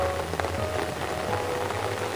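Steady rain falls during a heavy thunderstorm, a continuous dense patter on surfaces that holds at an even level throughout, close and unbroken, with no voices.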